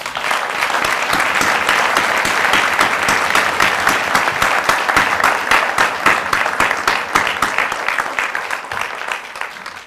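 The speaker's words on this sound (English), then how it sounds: "let's give him a round of applause" A large audience at a police promotion ceremony applauds loudly and continuously, a thick wash of many clapping hands with faint individual claps standing out, slowly thinning toward the end.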